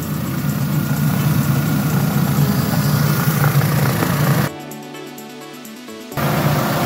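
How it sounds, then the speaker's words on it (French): Mini One engine idling with the radiator cooling fan running, a steady loud whirring drone that drops out briefly and then switches back on. "il se déclenche le ventilo là. Tu l'entends?"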